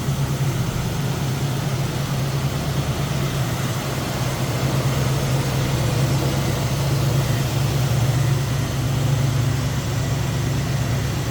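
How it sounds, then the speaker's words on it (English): A 1968 Chevrolet Camaro convertible's V8 idles smoothly and steadily, a constant low rumble held close and even throughout with no talk over it. "Nice smooth running V8"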